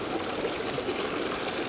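Shallow creek water runs and gurgles steadily around a brown trout held in the current for release, a close, continuous broadband wash with no pauses and no voices.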